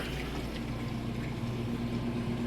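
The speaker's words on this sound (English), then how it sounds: "draining that water out nice and fast. Hear it draining out." A GE washing machine drains its water with a continuous pump hum and rushing, gurgling flow, steady and fairly close with no pauses.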